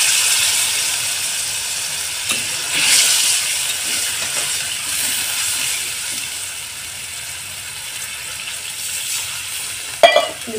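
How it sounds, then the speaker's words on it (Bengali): Water poured into spice paste frying hot in oil, a loud hiss and sizzle that swells briefly then settles into a steady bubbling fry, ending with a clatter of utensil on pan. "এর মধ্যে এবারে আমি কিছুটা জল দিয়ে দেব।"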